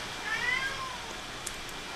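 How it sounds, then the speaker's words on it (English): A house cat meows once, a short, fairly faint call against steady background hiss, with no other clear sounds. "What are you talking about, cat? Got my cat talking to me."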